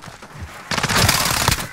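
Rapid automatic gunfire from a Call of Duty: Modern Warfare (2019) Hardpoint match on PC, bursting in loud and dense after a quieter opening and continuing as a sustained crackling barrage.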